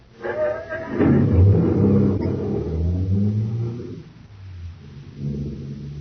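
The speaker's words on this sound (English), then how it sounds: "Start the car" A car engine starts and drives off in a vintage science-fiction radio drama, a low rumbling, revving drone that swells and holds, then eases as it pulls away, with voices faintly under it.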